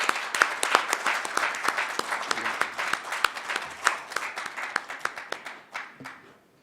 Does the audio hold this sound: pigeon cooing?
no